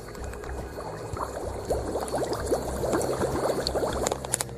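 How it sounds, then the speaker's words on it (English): Floodwater bubbling throughout a barn after Hurricane Irene: a dense, continuous mass of small gurgling pops and fizzing bubbles, fairly close and steady, with no voices. "The entire barn is bubbling."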